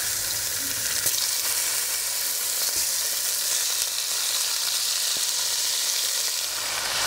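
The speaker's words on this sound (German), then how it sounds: "Und jetzt werden wir anfangen, dass wir portionsweise unser Rindergulasch hier anbraten werden." Steady, loud sizzling of beef goulash meat searing in hot oil in a Dutch oven, continuous throughout with faint clinks now and then.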